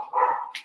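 A single short, close bark or yelp from a dog, loud and brief, stands alone without talk.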